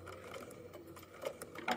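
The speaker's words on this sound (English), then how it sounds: "Careful not to let your sewing machine eat your fabric." A sewing machine stitches a double-fold hem in fabric, its motor whirring steadily with short, rapid bursts of needle clatter. It sounds fairly quiet and close, with no talking.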